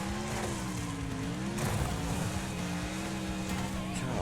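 A car engine in the demolition racing game Wreckfest drones and revs steadily, its pitch wavering as the car fishtails, with a sharp crunch partway through and someone talking over it.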